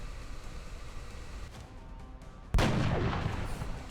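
A sudden loud burst of gunfire rings out in the XCOM: Enemy Within video game as a reaction shot fires. A sharp crack is followed by a noisy sustained roar that cuts in after a quieter stretch of game ambience.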